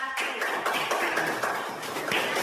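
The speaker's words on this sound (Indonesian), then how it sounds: "kasih tepuk tangan untuk kelompok 1" Students clapping for a group's presentation in a classroom, a steady patter of many hands running the full length without any talk.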